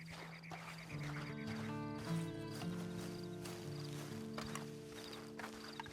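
A horse's hooves clip-clop steadily in Red Dead Online over a low musical backdrop, faint and even, with an occasional snort-like sound.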